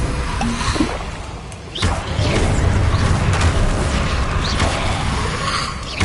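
Incendio fire spell cast in the Hogwarts Legacy video game on PS5: a loud whooshing, roaring rush of flame that swells and sustains for several seconds, with a soft thump at the start and no talking.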